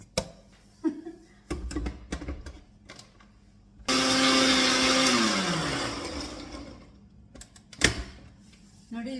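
An electric blender whirs loudly for a few seconds as it blends watermelon for juice, its motor pitch dropping as it runs, set between short clanks and knocks of the jar and lid, with faint voices nearby.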